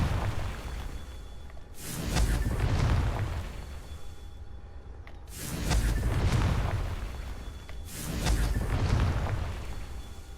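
Confringo explosion spells in Hogwarts Legacy go off three times with a whooshing burst swelling into a deep rumbling boom, evenly spaced and fairly loud.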